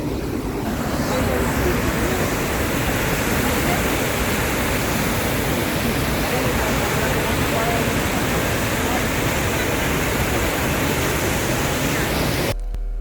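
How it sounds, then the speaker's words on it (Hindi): Dhuandhar waterfall at Bhedaghat in Jabalpur gives a loud, close, unbroken roar of falling water with wind buffeting the microphone, running steadily until it cuts off abruptly at the end. "तो धुआंधार झरना भेड़ा घाट में स्थित है।"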